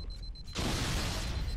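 In the Halo video game, a loud explosion erupts suddenly and becomes a dense, sustained roar that fills the rest of the moment, with no talk.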